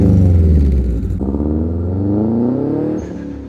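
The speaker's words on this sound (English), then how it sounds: "Let's start with the STi engine and transmission. In my opinion, it's the best sounding 4-cylinder ever made." Subaru STI flat-four engine revs hard and loud up close, the pitch sweeping upward in a strong, throaty burst before easing off and then climbing briefly again, with no voices over it.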